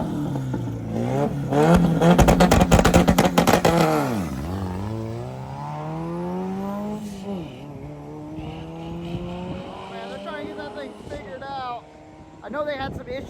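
A rear-engined, rear-wheel-drive race car with a Honda K20 or K24 engine and a raised intercooler revs hard, its engine note rising and falling through sweeping pitch changes. Someone talks over the sound, and engine noise continues under his voice.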